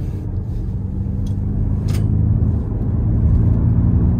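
Ford Mustang Mach-E AWD electric car (346 hp) driving on the road, heard from inside as a steady low rumble of road and motor noise that holds evenly throughout with no talking.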